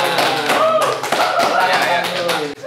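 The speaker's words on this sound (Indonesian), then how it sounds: "Tepuk tangan." A studio audience claps to welcome a guest onto a talk show, a bright patter of hands with music or voices sounding alongside, ending in a sudden cut near the close.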